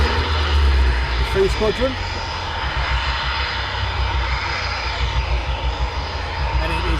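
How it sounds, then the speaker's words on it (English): Aircraft engines roar as planes taxi out and take off at a live aviation event, a steady loud drone filling the air while someone talks over it. "The last aircraft taking off will be Blackjack."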